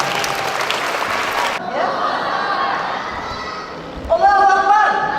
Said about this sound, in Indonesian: Kita berikan apresiasi dan tepuk tangan untuk Bunda Neni.